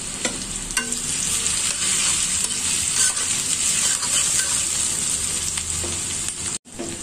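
Two bay leaves crackle in hot oil for a cabbage bhaji, a loud, steady hiss with small pops and occasional stirring clicks before it cuts out abruptly near the end.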